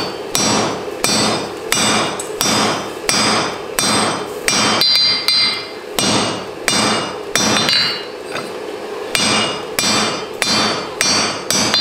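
Hammer blows forging rebar tongs on a crowned anvil, sharp ringing strikes in steady rhythmic bursts with brief pauses between groups, close and loud.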